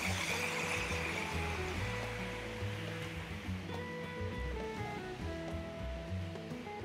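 Man-made waterfall at the Hilton Hawaiian Village in Oahu gives a steady, full rush of falling water, loud and continuous, with a low tonal hum layered underneath.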